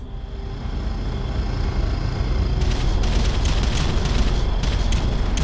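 Artillery shells pound a targeted area in the video game Ground Control, a sustained roar of explosions with sharper bursts crackling in over the second half, with no voices.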